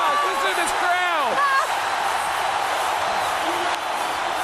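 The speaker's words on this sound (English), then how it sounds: "Listen to this crowd." Large stadium crowd roaring and cheering at the 2017 Home Run Derby, a dense sustained wall of noise with whistles and excited shouts rising early, an announcer's voice talking over it throughout.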